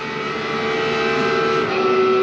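GT3 race car in the racing sim Le Mans Ultimate, its engine droning steadily and climbing slightly in pitch as it revs, loud and continuous over a couple of seconds with no talking.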